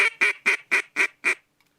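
Six short, evenly spaced quacks from a Zink duck call, fairly soft and close, ending in a brief quiet stretch.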